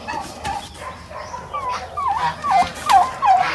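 A turkey gobbles in a series of quick, warbling bursts that grow louder, close by, with faint background noise.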